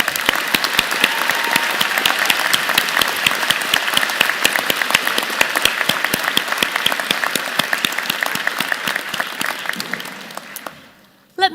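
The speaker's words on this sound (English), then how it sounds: "So please join the platform party and I in thanking them with a vigorous round of applause." A convocation audience for graduate and management school graduates gives a sustained round of applause, dense steady clapping throughout that thins out and fades near the end.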